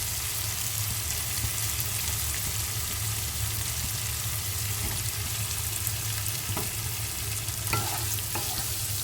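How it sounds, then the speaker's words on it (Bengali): Potatoes being stirred into a frying spice paste for koi fish curry, giving a steady close sizzle with occasional scraping clicks of the spoon throughout. "আলুর সাথে মশলাগুলো ভালোভাবে নেড়ে চেড়ে মিশিয়ে নিতে হবে।"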